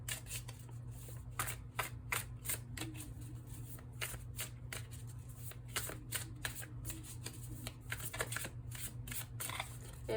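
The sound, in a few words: shuffling tarot cards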